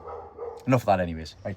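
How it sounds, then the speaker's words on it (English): A dog barks a couple of times in the background, sharp yelps that are fairly loud against someone talking nearby. "Please excuse the noisy dog from the back."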